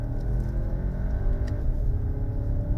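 A Skoda Kodiaq vRS engine rumbles steadily up close, a deep throaty drone that swells slightly as it revs.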